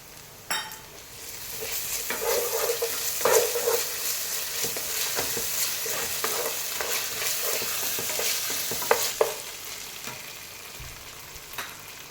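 Ginger garlic paste fries in a pan while a spoon stirs and scrapes it, a constant close sizzle broken by repeated stirring clatters, with no talking.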